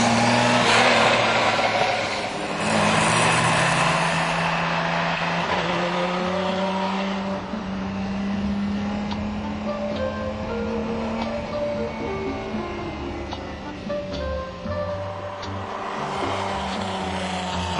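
Lamborghini Miura driving on the road, with a steady engine drone and shifting tones that rise and fall as it pulls along, continuous and fairly close throughout.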